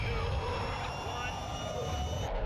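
Jet engine boosters roar steadily and loudly throughout in a Call of Duty: Modern Warfare II aircraft strike mission, a dense continuous rush that cuts off abruptly at the very end.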